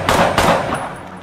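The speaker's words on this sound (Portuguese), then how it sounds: "Tiro pra tudo quanto é canto" Two loud, close bursts of video game gunfire crack out in quick succession, then a fainter third shot trails off.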